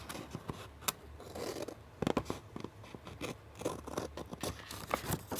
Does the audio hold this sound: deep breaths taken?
no